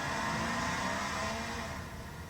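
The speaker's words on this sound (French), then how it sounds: "Là, on avait mis un bruit, ça faisait presque un V8." A steady synthetic V8-like engine drone from a Mercedes EQS electric car, like a rumbling motor revving, continuous and fairly loud throughout with no talking.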